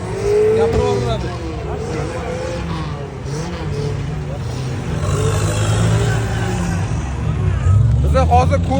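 A diesel Toyota Land Cruiser 80 runs hard at a jeep sprint event in Pskent, its loud, steady engine roar rising and falling with tyre noise, while crowd chatter and a nearby voice carry over it.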